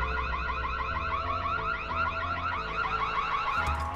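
Steady electronic car-alarm beeping inside The Following DLC for Dying Light, cycling in repeated tonal pulses at a constant loud level over a low hum, with no voices.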